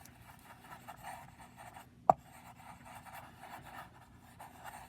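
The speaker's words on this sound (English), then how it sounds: "now I'm going to burnish the whole thing" Paper swirl flattened by burnishing, a soft continuous rubbing and scratching close by, with one sharp tap partway through.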